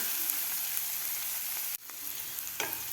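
Onion sautéing in a pan for Maharashtrian methi zunka, a continuous bright sizzle with faint stirring, briefly dipping before resuming, close and without voices.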